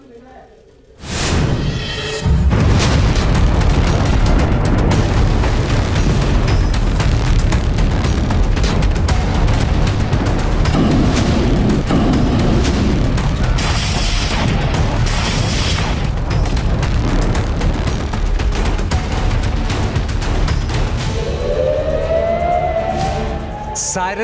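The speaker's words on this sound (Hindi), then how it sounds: "और धमाकों की गूंज से दहलता नॉर्थ इजरायली इलाका।" Explosions from Hezbollah rocket attacks rumble across northern Israel, loud booms and a dense roar after a quiet start, mixed with a siren and a narrating voice, ending in a rising wail.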